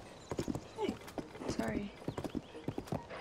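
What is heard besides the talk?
horses clip-clopping in the video game Zelda: Tears of the Kingdom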